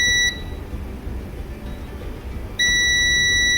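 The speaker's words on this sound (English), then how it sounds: "we set our multimeter in beeping mode" A multimeter set to continuity mode sounds a steady electronic beep while testing a coil in a Samsung A23 phone, a short tone that stops and then returns, alone and fairly clear.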